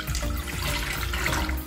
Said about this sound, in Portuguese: Vou colocar aqui em uma panela e aqui eu tenho 600 ml de água em temperatura ambiente.